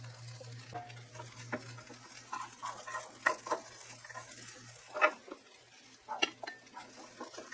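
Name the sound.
pork frying and being stirred for Japanese fried rice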